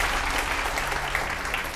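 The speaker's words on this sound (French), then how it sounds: "Sous nos applaudissements, on encourage toutes nos candidates." An audience at a fashion competition show applauds the candidates with loud, continuous clapping blended with crowd noise, a dense roar that does not let up.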